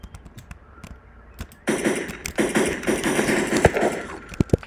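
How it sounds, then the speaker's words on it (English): Gunfire in the survival game Unturned, a run of sharp shots and cracks, some scattered single reports then a denser burst of rapid firing with loud close bangs. "Who's taking shots out there?"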